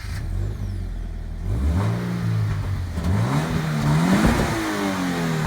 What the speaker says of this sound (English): Drop a gear and let that baritone engine note reverberate in your ear